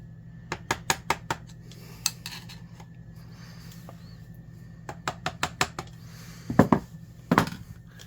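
Light taps knock apart the gearbox case of a Milwaukee 1675 Hole Hawg drill. Sharp, close knocks come in small clusters with pauses between them, over a low steady hum.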